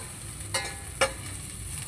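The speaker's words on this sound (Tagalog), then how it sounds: "I-fry ko muna ito" Dried dilis anchovies fry in a home pan under a steady, soft sizzle, with two sharp crackling bursts as the small fish are stirred.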